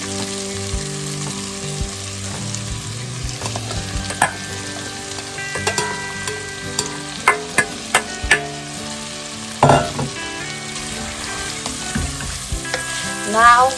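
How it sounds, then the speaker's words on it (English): Chopped onions and celery sauteing in melted butter, a continuous sizzle with scattered stirring scrapes and a few sharper knocks of a utensil against the pan, close by, no speech. "Now we'll just saute the onions and the celery until it's nice and soft."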